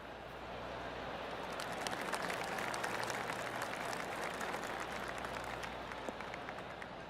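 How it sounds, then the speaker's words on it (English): Spectators at a golf course give a light, polite golf clap, a steady patter of scattered hand claps heard from a moderate distance over broadband crowd ambience, with no talking. "Oh, golf clap."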